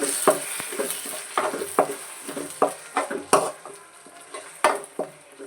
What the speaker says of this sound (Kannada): ಈಗ ಇದನ್ನು ಒಂದು 30 ಸೆಕೆಂಡು ಚೆನ್ನಾಗಿ ಫ್ರೈ ಮಾಡ್ಕೊಳ್ಳೋಣ.